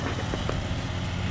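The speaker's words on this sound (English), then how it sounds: "you hear he's not got the mower revved real high" A lawn mower mulches fallen leaves during a fall yard cleanup, its engine held at low revs, giving a steady, moderately loud hum and rumble with no talk.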